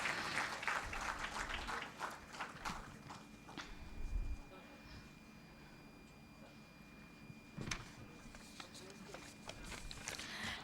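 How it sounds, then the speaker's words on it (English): Conference audience applause rises as a dense patter at the start, fades into a softer murmur mid-way and swells again near the end, with a voice speaking over parts of it. "Please give them a big round of applause."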